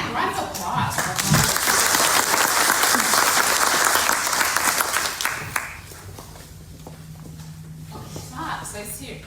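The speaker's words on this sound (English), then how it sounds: "Round of applause for her." An audience breaks into loud, sustained applause for about five seconds, then it fades and a quieter room with a low hum and scattered sounds remains.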